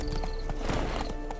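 Horse hooves in The Witcher 3, a quick run of clip-clop beats over game ambience during a short burst of travel.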